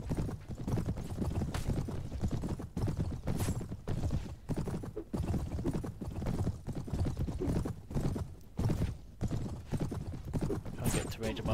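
Hoofbeats of a horse galloping in the video game Clash of Kings: fast, steady clip-clop that runs for the whole stretch, loud and close, mixed with other game sounds.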